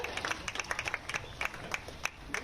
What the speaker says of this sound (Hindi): एक बार आभार स्वरूप जोरदार तालियां माननीय तक प्रेषित करें